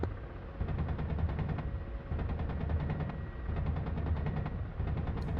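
Rapid cannon fire from a Ka-50 attack helicopter in the DCS flight simulator thuds in quick repeated bursts over a steady rotor and engine drone, with a short lull between volleys.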